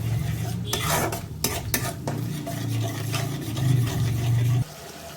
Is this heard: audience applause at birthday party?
no